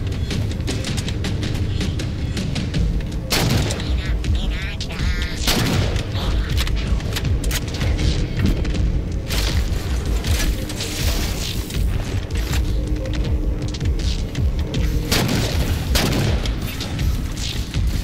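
Enemy plasma weapon fire in the video game Halo 4 on Legendary difficulty, with dense repeated booming blasts and sharp bursts layered throughout a steady, loud firefight.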